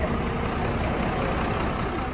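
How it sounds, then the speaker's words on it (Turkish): Buses idle near the Kaaba in Mecca before leaving for Medina, a steady low engine rumble mixed with broad outdoor noise, continuous and fairly close. "Otobüsler Medine'ye gidecek"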